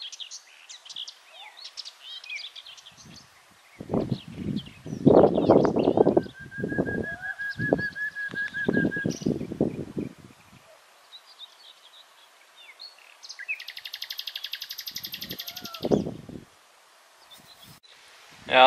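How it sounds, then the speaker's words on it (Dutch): Birds chirp and whistle faintly in the background while people talk nearby, with short clear tweets and a higher trill rising between the voices. "dan horen jullie misschien ook de mooie vogeltjes fluiten"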